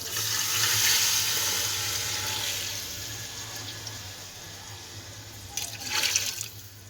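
Water is poured into fried masala in a pressure cooker for nihari, a steady rushing and splashing that starts loud, gradually tapers, then ends with a few brief louder splashes.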